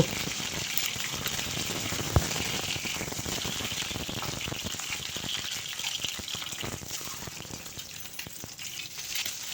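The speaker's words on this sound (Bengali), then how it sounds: "ডিমটাকে লাল করে ভেজে নেব" Four eggs fry in a few spoonfuls of hot mustard oil in a wok, a steady dense sizzle lasting throughout with faint scraping, close and fairly loud with no talking.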